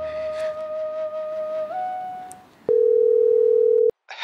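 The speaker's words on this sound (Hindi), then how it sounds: "मोहन भैया को फोन मिलाती हूँ।" A steady electronic phone tone hums, shifts pitch briefly, then a louder continuous tone sounds for about a second before cutting off.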